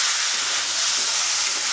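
Red chili powder dropped into a sizzling pan of Bengali-style mutton curry gives a steady, close hiss and crackle of hot oil with no breaks.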